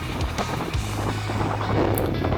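Strong wind roars steadily across a microphone while riding a motorcycle on a morning ride near Nong Ri, Chonburi, a dense rushing buffet with a low engine hum underneath.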